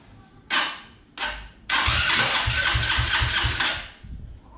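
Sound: Honda Titan 2010 motorcycle engine with 190cc kit starting

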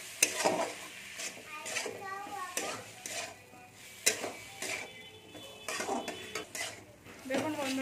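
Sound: stirring spiced curry in a pan

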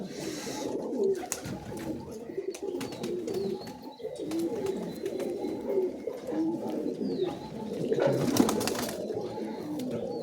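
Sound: Shia-generation Giribaz pigeons cooing

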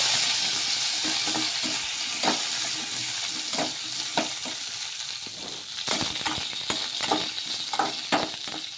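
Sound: stirring cumin, garlic and green chillies frying in a pan

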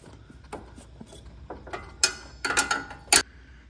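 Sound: wrench loosening a nut on a bolt

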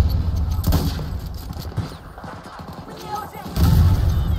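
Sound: sniper rifle gunfire in the video game Battlefield 2042

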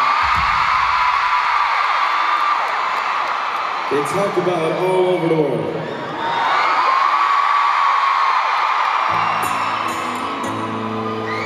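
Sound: Irish crowd cheering at SSE Arena, Belfast

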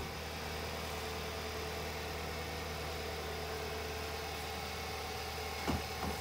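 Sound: 2015 Hyundai Sonata engine idling

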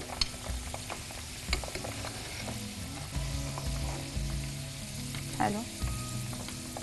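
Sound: frying in oil

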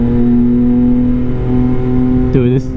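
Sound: Yamaha XSR900 motorcycle with Kelpi Custom Moto shorty exhaust revving

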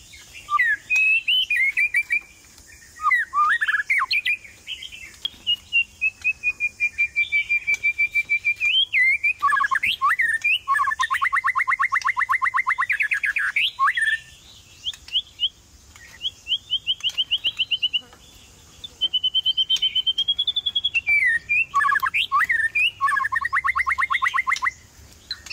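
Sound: white-rumped shama (chòe lửa) singing

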